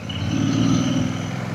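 A car grinds up a steep mountain road between Gangtok and Lachung, held in first or second gear, its engine a steady, strained low drone, close and continuous without any voices.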